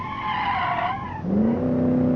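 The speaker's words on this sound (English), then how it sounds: "I'm going to put on the brakes nice and early" A car in the BeamNG driving game brakes hard from high speed, its tires screeching in one continuous squeal that drops and then rises in pitch, loud and up close over engine noise.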